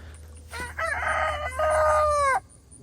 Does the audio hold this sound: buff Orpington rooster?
yes